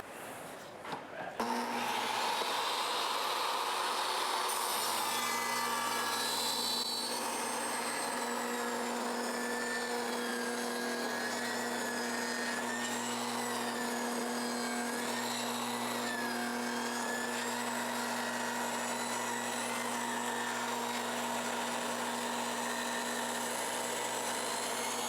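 A power saw with a raised blade cuts a wood trim stop in a barndominium, holding a loud, steady whine for over twenty seconds with a rising and falling tone as the wood feeds through.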